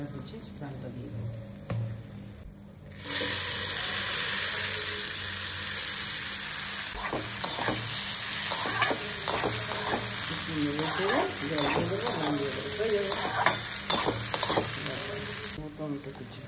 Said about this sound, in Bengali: এবার হচ্ছে ডালটা দিয়ে দেবো।